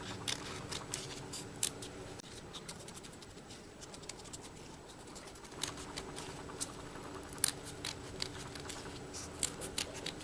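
Paper being cut with scissors around a swirl scallop flower tag, giving repeated quiet snips and scratchy rustles at an irregular pace, close and faint with no talking.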